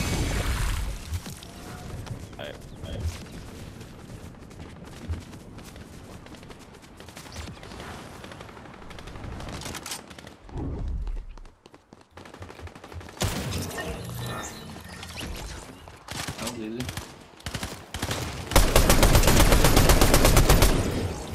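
Battle royale video game firefight: rapid bursts of automatic gunfire and scattered single shots, loud and close, with brief lulls and a dense final volley.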